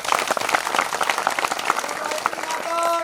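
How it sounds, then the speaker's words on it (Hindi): Audience at a Gayatri Pariwar 24-kund yagna gathering clapping together, a dense, fairly loud patter of many hands that thins toward the end as a faint tone enters. "ताली बजाओगे"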